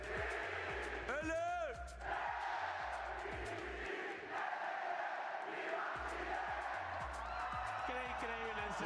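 A big stadium crowd at a VALORANT Masters Santiago esports match in Chile chants along with a Chilean cheer, a loud continuous roar of many voices with rising shouted calls near the start and end.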